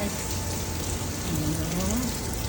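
Rain falls steadily outdoors near a chapel, a dense even hiss over the whole moment, with a voice briefly murmuring underneath.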